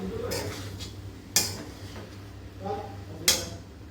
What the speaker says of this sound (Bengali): দিয়ে এটাকে নেড়ে চেড়ে মিক্স আপ করে দেবো